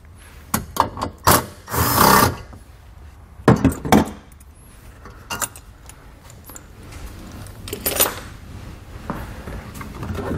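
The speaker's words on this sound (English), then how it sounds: "We'll just take these out with our 10 millimeter." A 10 mm socket wrench removing panel bolts on a 2020 Nissan during a wiring harness install, with close metallic ratcheting and clinking bursts, loud rattles early on, then quieter scattered clicks and handling noise.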